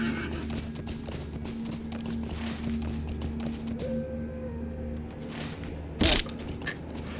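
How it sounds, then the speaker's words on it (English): Horse hooves clip-clopping at a trot in a western-themed video game, a steady rhythmic patter under ambient game music and wind, with one brief loud burst near the end. "I stopped hearing the trotting of my horse's hooves"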